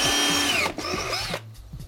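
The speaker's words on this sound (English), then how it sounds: "Using my drill I put 2 pilot holes in." A power drill boring pilot holes into the side panel of a unit, a close, loud whining motor that dips briefly, then resumes before cutting off and leaving a faint low hum.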